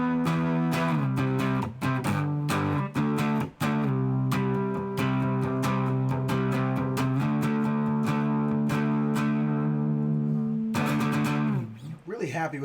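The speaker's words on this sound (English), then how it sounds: "Just down to just distortion." Electric guitar played through a distortion effect alone, sustained chords with a thick, saturated tone ringing continuously and loudly, with brief pick attacks throughout and a sudden cut near the end.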